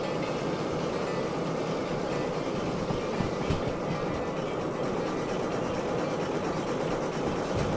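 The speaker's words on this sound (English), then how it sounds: "my train's coming through the corner" A train rounding a corner in a train simulator video game, a continuous loud rolling rumble with faint clickety-clack of wheels on rails, steady throughout with no talk.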